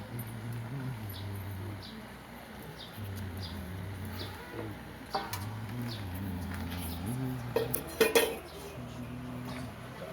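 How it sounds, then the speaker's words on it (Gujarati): Dishes and metal utensils clink softly during a Ganpati puja at home as a plate is set down, with small scattered clatters and a brief louder clink of metal near the end. "આવી રીતે ડીશ મૂકી દો, એમાં પાન મૂકી દેજો."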